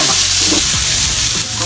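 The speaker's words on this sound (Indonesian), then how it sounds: "Terus sekarang kita masukin bawang bombay." Chopped onion sautéing in a hot pan, a steady close sizzle with a few scraping stirs of a utensil, no voices.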